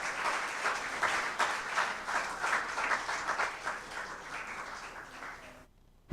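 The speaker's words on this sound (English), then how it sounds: "Another round of applause for Kimisha Williams." Applause for a contestant at a national corporate public speaking semi-final, a sustained round of clapping from an audience in a hall that fades near the end before a sudden cutoff.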